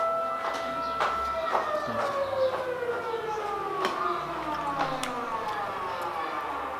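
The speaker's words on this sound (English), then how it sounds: "As you guys can hear the azan and the siren." Iftar siren sounding across a Pakistani town alongside the call to prayer, a long steady wail with a slowly falling pitch and the distant azan voice mixed in, continuous throughout.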